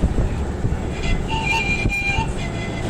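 A train sits at a large provincial railway station where many passengers board, with a low rumble, brief horn-like tones and station noise, faint and somewhat distant.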